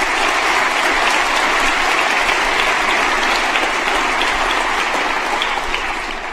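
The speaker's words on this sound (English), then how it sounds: "Give yourselves a round of applause." Graduates at a summer graduation ceremony applaud themselves, producing loud, dense, sustained clapping that fills the whole stretch and only eases slightly near the end.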